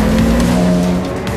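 Race cars of the Roscar GT Challenge at Magny-Cours on a rolling start, a loud, steady, close engine roar with a droning tone, with tires and engines blending into one dense wall of sound.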